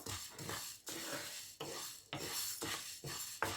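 Urad dal lentils dry-roast in a pan without oil while being stirred, giving repeated gritty scraping strokes in a regular rhythm, close and fairly quiet.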